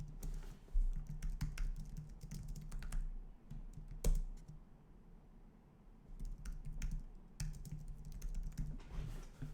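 Typing on a computer keyboard, quick irregular bursts of close, crisp key clicks with short pauses between runs, faint and alone without talk.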